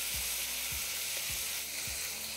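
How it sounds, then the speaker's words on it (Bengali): Sliced onions fry hard with salt over a high flame, a steady loud sizzle running throughout with a few soft thumps of stirring. "এবার এই পেঁয়াজ ভাজার প্রসেসটাকে একটু ফাস্ট করার জন্য আমি এখানে দিয়ে দিচ্ছি সামান্য একটু নুন"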